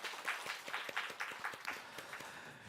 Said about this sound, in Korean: 우리 주님께 또 감사의 한 박수 드리겠습니다